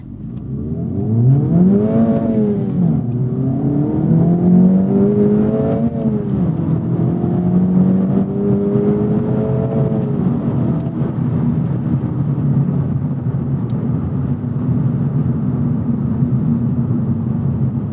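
An Acura Integra Type S accelerates hard in a pull, its engine note rising and dropping through several gear changes before holding a steady loud drone, close and continuous with no talk.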